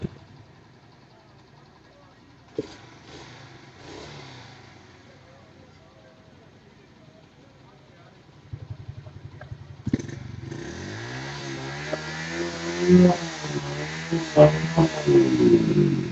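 Motorcycle engine fitted with a new silencer, idling quietly under background talk before loudly revving and accelerating in repeated rising bursts during the second half.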